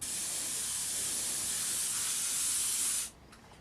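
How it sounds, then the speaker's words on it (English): Spray gun laying a very light coat of single stage enamel paint, a steady close airy hiss that runs for about three seconds and then cuts off, leaving quiet room tone. "My gun control is shocking. I'm putting a very, very light coat over it."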